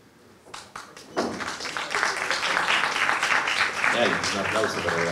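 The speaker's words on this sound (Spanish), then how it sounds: "Un aplauso para el ganador." Audience applause for a winner at a prize draw, starting with a few scattered claps, then swelling into sustained crowd clapping, while voices talk over it near the end.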